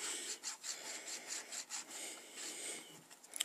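Quick rubbing swipes wiping scribbles off an iPhone 4/4S case, a series of soft, brushy strokes at close range, fairly quiet, with no talking.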